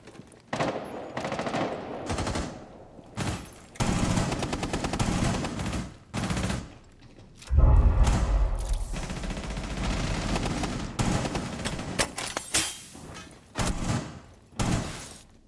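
Gunfire in Rainbow Six Siege comes in sharp repeated bursts of automatic shots separated by short pauses, with heavy thumps and one deeper impact mixed in.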